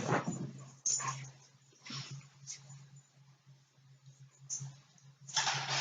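A dog yips and whimpers in short bursts indoors, a few sharp barks spaced across the clip with quiet gaps and a low steady hum beneath.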